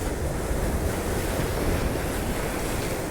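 Ocean waves break against the rocks near the Golden Gate Bridge in San Francisco as a steady, close, rushing roar mixed with wind buffeting the microphone, with no talking.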